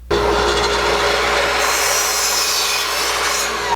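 A 2x4 wooden board being trimmed with a saw, giving a steady, loud, close rasping cut that runs continuously for a few seconds with no talking.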